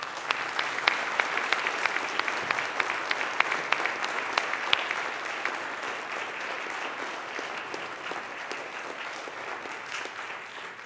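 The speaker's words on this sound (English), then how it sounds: "Just kept the clapping going on your own" Sustained congregation clapping during a church confirmation Sunday service, a dense even patter of many hands that continues steadily for several seconds and slowly softens.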